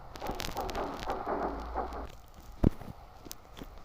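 Rain and rolling thunder in the Truckers of Europe 3 truck game, near a mine with a MAN TGX truck; a steady rain hiss with a low rumble and one sharp thunder crack partway through.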